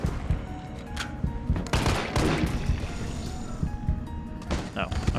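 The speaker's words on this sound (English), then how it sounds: "Dodge past her and then shoot her in the back." Gunfire aimed at an enemy in Resident Evil 3 (2020), rendered as a rapid burst of sharp shots crackling over busy game sounds and music, with a speaking voice layered on top.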